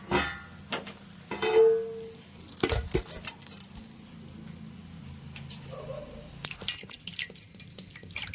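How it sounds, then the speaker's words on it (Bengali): Water is poured and dripped over a roasted mango to cool it, with irregular splashes, drips and occasional clinks of a vessel at close range. The sound is clearest in the first few seconds. "এবার জল দিয়ে ঠান্ডা করে"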